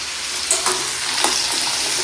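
Onion, tomato, ginger and garlic sizzle steadily while being stirred in a pan, a continuous close frying hiss with a few scraping stir strokes, no voices.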